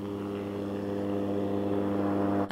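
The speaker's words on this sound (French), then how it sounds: "Moteur allumé et c'est parti, direction les airs." A small propeller plane's engine drones steadily as it takes off for a flight over the snowy Maurienne valley, a loud, even hum with no voices, cut off abruptly at the end.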